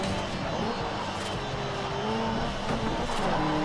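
Steady rumbling engine drone of cars racing in Forza Horizon, a continuous low throbbing roar with shifting pitch as a rival car draws closer.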